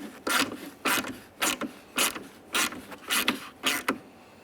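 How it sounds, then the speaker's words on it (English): A 10mm driver turns studs into the plastic housing of a Ford F-150 towing mirror, giving a run of about eight short ratcheting, creaking bursts at a steady rhythm, close and fairly clear, with no talk. "For this, you're going to be using a 10mm to drive it in."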